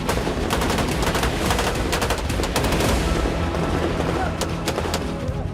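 Russian air defense fires over Crimea in rapid, repeated bursts and bangs, a loud, dense clatter of shots and blasts in the sky that continues through the whole stretch.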